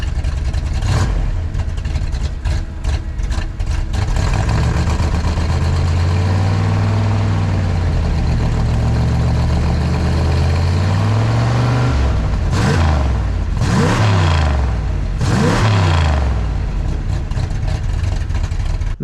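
A Plymouth Fury V8 runs steadily after its ignition timing has been reset on a new distributor setup, idling loud and close with a couple of sharp throttle blips near the end and no talking.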